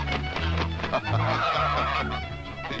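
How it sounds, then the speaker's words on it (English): Geese honk loudly and repeatedly in a noisy overlapping chorus, close by, with dense harsh calls filling the whole stretch. "Don't let silly geese fright you, lad."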